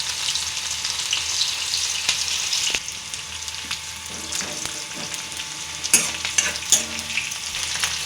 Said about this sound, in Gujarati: ચાલો કાંદા નાખી દઈએ આપણે.